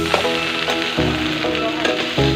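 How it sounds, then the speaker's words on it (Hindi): Okra, chili and garlic fry with a busy crackling sizzle in a pan, close and continuous, with faint tonal sounds underneath. "इसमें भिंडी, मिर्चा, लहसुन अभी डाल देती थी, इसको आप तलेगी।"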